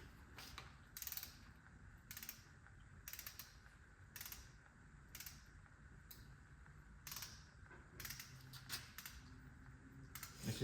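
A hand ratchet tightens a bolt on an engine block during a camshaft install, clicking in repeated short bursts of strokes at a steady, fairly close rhythm with no talking.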